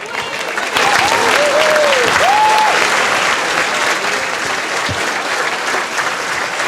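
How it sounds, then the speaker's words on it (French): Audience applause for the organizer at a 2014 special dinner event, steady loud clapping from a crowd that swells in after a moment and continues, with a whistle-like tonal sweep and faint voices mixed in. "je voudrais qu'on donne une bonne main d'applaudissement à l'organisateur de l'événement"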